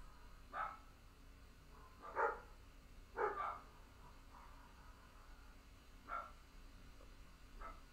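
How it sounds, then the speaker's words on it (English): Dogs barking faintly in the distance, a few scattered short barks separated by quiet gaps against a low background hiss. "You might be able to hear my dogs barking in the background."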